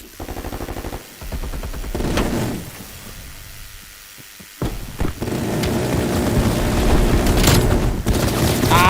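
A Galil rifle fires in rapid bursts in Call of Duty Warzone, sharp and loud, with heavy booms and a longer sustained volley of combat noise in the second half.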